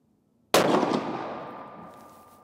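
A single loud rifle shot from a Sako S20 Hunter firing copper hunting bullets cracks sharply from silence, then its report rings and decays slowly over the next two seconds with no voices.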